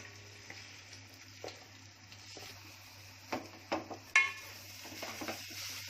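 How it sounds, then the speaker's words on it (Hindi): Grated coconut roasting in ghee for Konkani coconut burfi gives a low, steady sizzle with a few sharp scrapes and clinks of a spoon against the pan toward the end. "अब इस नारियल के चून को अच्छे से भूनूंगी"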